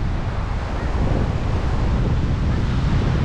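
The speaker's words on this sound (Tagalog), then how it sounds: "Ito ang dagat. Wow, dagat." Continuous rush of sea waves at Tagum City, Philippines, with heavy wind buffeting the microphone, a steady roaring wash with no voices.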